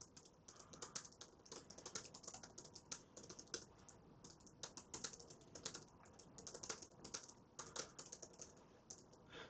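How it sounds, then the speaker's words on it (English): Rapid typing on a computer keyboard, a dense stream of close, quiet key clicks that runs throughout with no talking. "Sorry, just typing."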